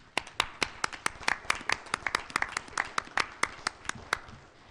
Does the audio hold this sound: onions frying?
no